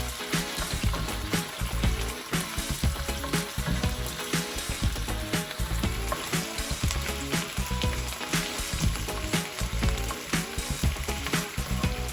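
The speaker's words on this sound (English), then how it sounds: "You're going to let them simmer for a minute. You may need to turn your heat down to medium so you're not getting splashed." Chicken sizzles and spits steadily in a hot pan for Creamy Tuscan Chicken, a dense, continuous frying crackle with frequent sharp pops, close and loud throughout with no talking.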